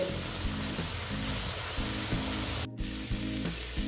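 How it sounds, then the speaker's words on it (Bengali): Squash and potato with turmeric being sautéed in a pan, giving a steady close sizzle and crackle with soft scraping stirs throughout and a brief pause near the end. "দেখো বন্ধুরা, এটাকে কষিয়ে নিচ্ছি, আর একটু কষাতে হবে"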